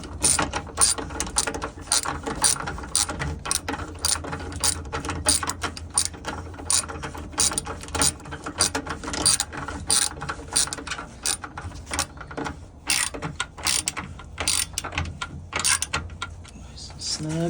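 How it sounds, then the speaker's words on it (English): Ratchet wrench tightening bolts on a Pentair MasterTemp pool heater bypass assembly, a long run of rapid metallic clicks in steady bursts, close and fairly loud, with a faint low hum beneath. "I've got all those 10 bolts tightened back up."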